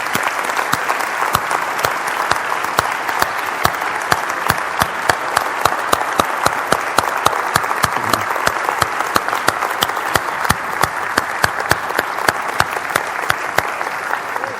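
A church congregation gives a sustained ovation of praise, dense steady clapping filling the room without a break for the whole stretch, loud and close, with no voices rising above it.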